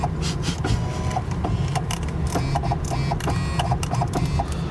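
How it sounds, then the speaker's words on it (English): A Tesla Model S Plaid's yoke steering wheel adjusting, giving off a steady mechanical whir with small ticking, printer-like clicks that repeat throughout, fairly close inside the cabin with no talk. "when you're adjusting the steering wheel, it starts to sound like a printer"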